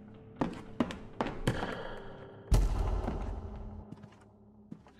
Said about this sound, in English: Hey, look, another door. And it doesn't open.